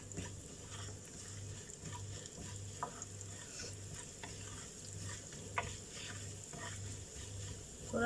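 Cumin, fennel and asafoetida frying in hot oil in a pan, a steady soft sizzle with faint stirring scrapes and a low periodic hum in the background, fairly quiet and unbroken by speech.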